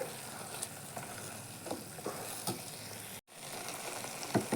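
Cooked brinjal pieces are lightly mashed in a pan with soft, irregular taps and scrapes over a quiet, low sizzle.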